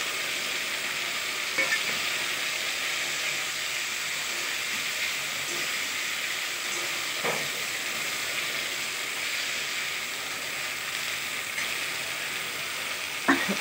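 Spices sizzling in hot oil in a home kitchen pan, a steady bright hiss running throughout with a few faint clicks and pops, no talking.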